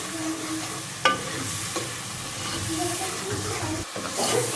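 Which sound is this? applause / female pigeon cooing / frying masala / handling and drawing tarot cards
frying masala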